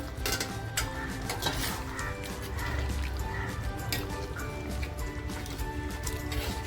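Spice water is poured into a pot of mutton masala for a traditional black mutton dish, a gentle splashing with scattered metallic clinks of utensil against pot, close and moderately quiet.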